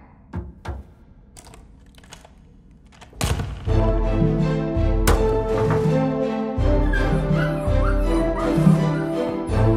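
A cartoon dog barks, yips and whimpers in a children's show, first a few sparse yelps, then a louder, sustained run of whining cries over music.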